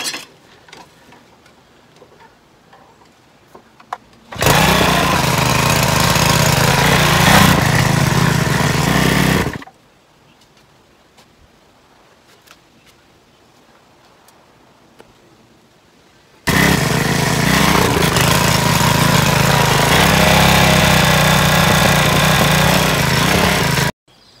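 Small lightweight rototiller engine tilling a garden bed beside a rock retaining wall, roaring loud and steady in two long bursts with quiet outdoor gaps between them.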